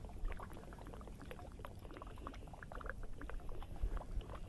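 Unleaded petrol poured from a can into the fuel tank of an AiVolt 1200W four-stroke inverter generator, a faint continuous trickling and gurgling of liquid lasting several seconds with no talk.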